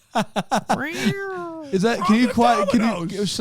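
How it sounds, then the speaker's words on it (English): A cat meows once in a long, clear, rising-then-level call, close and loud, between bursts of people talking. "That's a cat."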